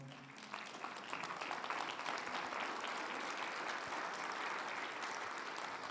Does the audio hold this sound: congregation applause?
yes